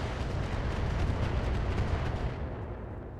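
A big missile explodes in a mech combat video game during a planetary defense mission: a loud, sustained roaring blast with crackling debris that rumbles on for about three seconds before thinning out at the end.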